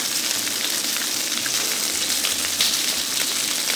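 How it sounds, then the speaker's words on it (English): Salmon pieces sizzle in hot oil in a pan, a steady dense hiss and crackle with no talking. "Leave the salmon alone and let it fry for about 1 to 2 minutes till they are lightly brown"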